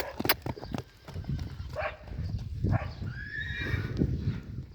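A nine-month-old colt is led past on foot, its hooves clip-clopping at a walking pace, with a couple of close whinnies and some background noise.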